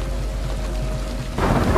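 Heavy night rain in a mafia drama, a steady close hiss of downpour with a low rumble of thunder underneath that swells louder near the end.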